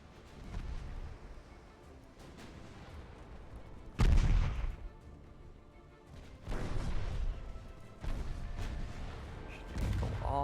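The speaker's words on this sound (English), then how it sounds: "I'm gonna hit him with the main armament" Main guns of an early 1900s Italian campaign warship firing in Ultimate Admiral Dreadnoughts, heavy booming salvos spaced a few seconds apart, each a deep loud blast trailing into rumble over a low ambient sea and battle bed.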